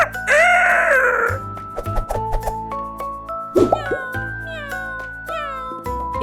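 A cartoon-style cat meows loudly for about a second near the start, followed by plucky musical notes and light tones in a children's farm-animal song setting.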